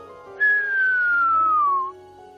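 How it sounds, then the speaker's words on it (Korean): A whistler radio signal produced by lightning: one clear, pure whistling tone that glides steadily downward in pitch for about a second and a half over a faint hiss, with no talking. "이건 휘파람 부는 사람이라고 불리는 신호인데 번개가 만드는 작품입니다"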